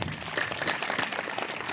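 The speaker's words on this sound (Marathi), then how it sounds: "जोरदार टाळ्या वाजवा गायण्यासाठी" Crowd at a kirtan gathering claps in a short, dense burst of applause, many hands at once and fairly distant, lasting under two seconds.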